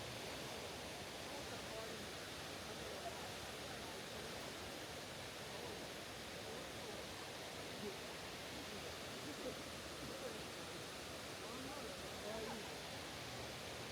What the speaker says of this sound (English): The fall's many streams, often compared to silk threads, come through the lava rock at a rate of about 1500 litres per second before cascading into the pond